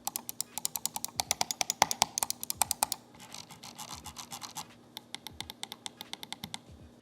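A Razer Basilisk X Hyperspeed wireless mouse gives rapid bursts of sharp plastic clicks, close and crisp, with a short pause of softer rolling scroll noise before the clicking resumes.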